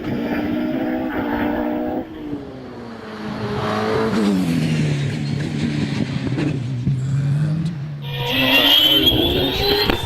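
The OMS 28 hillclimb race car with its 3.2-litre RPE V8 screams past at Harewood, revving through rising and falling gear changes, loud and near, with a sharp high-pitched burst near the end.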